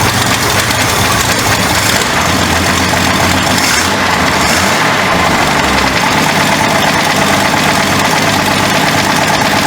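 A long-abandoned 1967 Ford Mustang engine idles steadily with a slightly sticking throttle, a loud, continuous rumble with rough knocking pulses and vibration running through the whole stretch, no voices.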